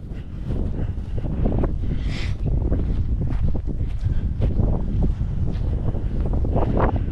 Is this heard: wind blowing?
yes